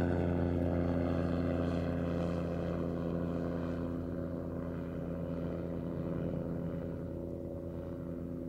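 An autogyro flies past at the Duxford air festival, a steady droning rotor and propeller engine hum that holds loud for several seconds and slowly fades as it moves away.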